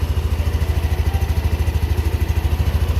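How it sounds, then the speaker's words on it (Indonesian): Yamaha Aerox 155 scooter engine idling close by, a steady, even putter with a deep, bassy exhaust thump pulsing rhythmically, alone with no talk. "suara mesinnya kayak gini. Nah, suara knalpotnya ngebas, mantap."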